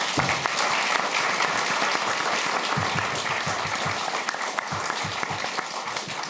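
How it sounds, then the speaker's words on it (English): Loud, dense audience applause for the speakers at the close of a talk on the energy transition, sustained and even throughout with no voices over it. "Please give them a warm applause."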